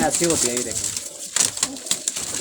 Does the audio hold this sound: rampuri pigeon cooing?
yes